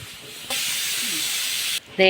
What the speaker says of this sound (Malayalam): ഇനിയിപ്പോൾ നമുക്കിതൊന്ന് മിക്സിക്കകത്തിട്ട് ചെറുതായിട്ടൊന്ന് അടിച്ചെടുക്കാവേ